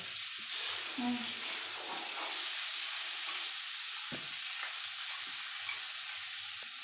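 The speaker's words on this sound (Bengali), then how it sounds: "এইটা ভালো করে ভেজে রেখে দিয়ে" Food frying steadily in a pan with hot ghee, a continuous bright sizzle and hiss throughout, with occasional stirring scrapes and a brief knock.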